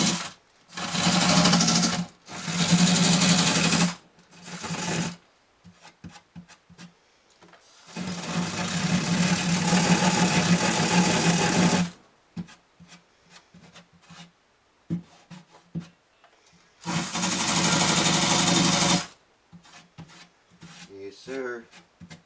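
A cordless drill fitted with a cleaning wheel runs on an acoustic guitar's bridge area in several loud bursts of whirring and grinding, with quiet pauses and handling noises between them.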